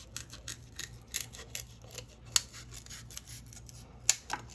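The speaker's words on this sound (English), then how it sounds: "So I'll cut it in half. And then I'll just cut along this little line." Scissors cutting through a paper plate, a quiet series of crisp snips and slicing rasps at an uneven pace, with a few sharper clicks of the blades and no talking.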